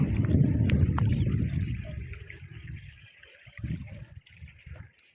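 Water in a canal trickles and flows close by, louder and fuller at first, then thinning into softer burbling dribbles with brief splashy bursts.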